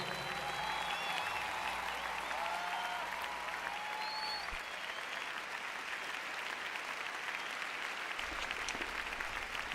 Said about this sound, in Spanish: Dale a Cristo ese aplauso.